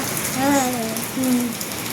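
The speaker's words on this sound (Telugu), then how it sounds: "వాన తగ్గింది కొంచెం" Rain falls in a village, a steady even hiss running throughout while a person speaks briefly over it.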